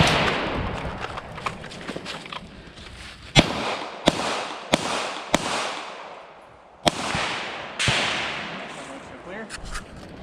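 Pistol and rifle gunfire at a shooting competition stage at a rod and gun club: a series of loud, sharp reports spaced irregularly, a few close together and others after pauses, each with a short echoing decay over outdoor background noise.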